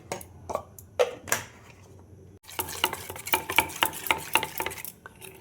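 Cauliflower mixture with red chili and a little sugar stirred in a cooking pot, with scraping, clattering strokes that turn into a quicker, busier run of clinks and scrapes, close by and unvoiced.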